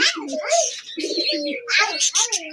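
Domestic pigeons cooing nearby in a series of soft, rounded calls with brief pauses, mixed with chirpy bird sounds and a voice talking over them.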